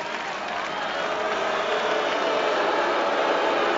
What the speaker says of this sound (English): The roar of the crowd, the boos and the hisses can only mean one thing.